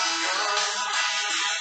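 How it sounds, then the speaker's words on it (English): A phone rings with an incoming call, a continuous bright electronic ringtone that fills the whole moment at steady loudness, with no talk over it. "Sorry about that, a phone call."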